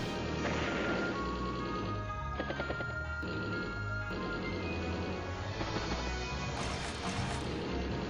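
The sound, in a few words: tank attack in video game Advance Wars: Days of Ruin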